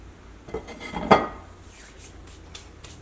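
Bread mixed into a warm milk mixture in a pan, heard as a few close metallic scrapes and clinks of a spoon against the pan, one louder knock in the middle, then lighter intermittent taps.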